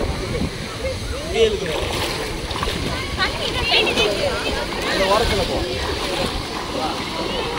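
Water rushing over a small weir into a stream at Thaiyur lake near Chennai, a steady broadband wash with occasional splashes, with people talking over it.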